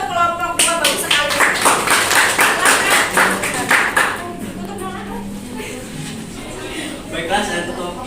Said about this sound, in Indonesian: Kita kasih tepuk tangan untuk kelompok 2, bagus sekali.